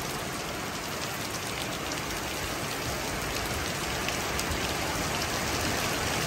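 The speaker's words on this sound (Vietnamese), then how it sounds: "Mà hôm nay trời đang mưa quý vị ơi." Heavy rain falls steadily at a temple gathering in Vietnam, a dense, unbroken wash of drops pattering on surfaces, fairly loud with no talking.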